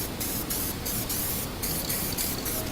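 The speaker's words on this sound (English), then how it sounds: "I'm going to spray a little bit on here." A steady, continuous hiss of an aerosol can spraying guide coat onto a surface, close and fairly loud, with brief pulses as the nozzle is pressed, no voices.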